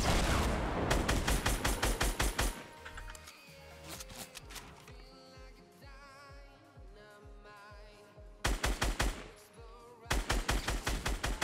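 Rapid bursts of Fortnite gunfire, loud and close, opening with a long volley, then a quieter musical stretch before two more sharp bursts.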